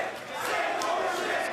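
A wrestling crowd at a Pro Wrestling Guerrilla show chants at the Young Bucks tag team, a dense, steady roar of many voices filling the hall at a sustained, fairly loud level.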